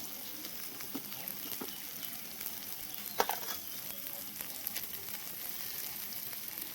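Spice masala with ground turmeric, Kashmiri chilli and cumin frying in a pan, a steady close sizzle with faint crackles and an occasional sharp pop or stir, no voices.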